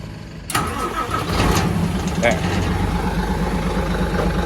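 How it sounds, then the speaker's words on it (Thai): Diesel engine of an older Japanese-import Hino 700 series tractor truck cranks and catches after a short pause, then settles into a loud, steady, close rumbling idle. "เดี๋ยวฟังเสียงเครื่องยนต์ดูครับ"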